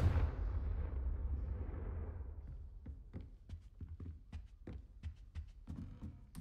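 A Confringo fire spell bursts against a target in a Harry Potter video game, a loud rumbling blast that dies away over a few seconds, followed by a run of sharp crackling snaps.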